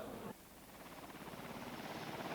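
An American military helicopter with NATO forces in Kosovo, 1999, its rotor thudding in a steady rapid pulse at moderate distance, continuous and unbroken after a brief louder start.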